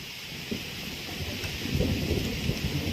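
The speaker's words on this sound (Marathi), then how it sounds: "हे बघा किती मोठ्या प्रमाणात ओरडतं ते ढग" Thunder rumbling low from clouds during rain at Kothaligad fort, a deep rolling grumble swelling and fading under a steady hiss of rainfall, with no voices.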